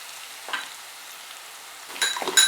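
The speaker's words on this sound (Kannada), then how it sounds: "ಒಂದು ಕಟ್ ಮಾಡಿರೋ ಈರುಳ್ಳಿ ಹಾಕಿ 1-2 ನಿಮಿಷ ಚೆನ್ನಾಗಿ ಫ್ರೈ ಮಾಡ್ಕೊಳ್ಳೋಣ" Chopped onions frying in hot oil with mustard seeds for betel leaf rice give a low steady sizzle, broken by a few brief stirring scrapes, with no talking.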